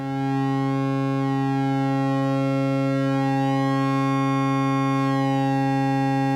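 Erica Synths modular synthesizer oscillator with sync engaged, holding one steady pitch while its waveform slowly sweeps, so the bright buzzing overtones shift and shimmer continuously; loud, close and alone with no speech.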